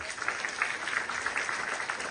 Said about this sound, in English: let's call and encourage grade 5th B students with a huge round of applause